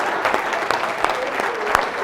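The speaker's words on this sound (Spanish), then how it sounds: "Démosle un aplauso a Rubencito" A small group claps for a participant, the claps fairly loud and close with some overlapping voices and a brief sharp accent near the end.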